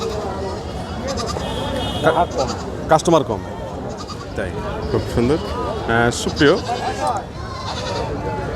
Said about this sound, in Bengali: আমাদের সামনে যে পাটা ছাগল দুটি রয়েছে